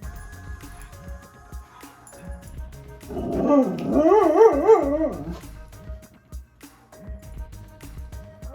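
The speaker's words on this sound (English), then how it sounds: "Told you there would be puppies." Puppies bark and yip indoors, a short run of high, wavering yelps that swells for about two seconds amid quieter household sounds.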